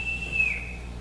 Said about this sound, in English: I can't bear being whistled for.